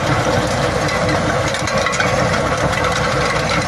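A tractor engine runs under load while pulling a New Holland 195 manure spreader that is spreading chicken manure in a field, a loud, close, steady diesel rumble with a rough knocking throb and no talk.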